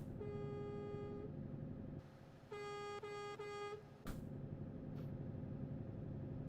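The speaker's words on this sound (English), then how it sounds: "That's the regular horn." A vehicle horn in the video game Nordic Horizons blares in two long honks separated by a pause, steady and tonal over a low engine rumble, followed by a sharp knock.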